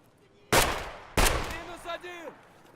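Two loud, sharp gunshots in Escape From Tarkov, spaced about half a second apart, each with a decaying echo tail, followed by a brief bit of faint in-game sound.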